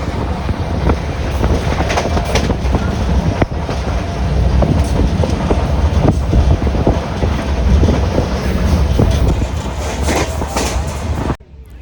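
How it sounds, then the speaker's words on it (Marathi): The Mangala Lakshadweep Express pulls out of Ratnagiri station, heard from inside a coach as a continuous loud rumble with rhythmic clickety-clack of wheels over rail joints and occasional metallic knocks. "आणि ट्रेन सुटली पण आहे आता रत्नागिरी"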